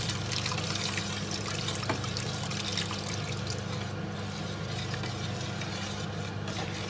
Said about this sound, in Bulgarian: на много тънка струйка започвам да наливам застройката в супата, докато, разбира се, едновременно с това бъркам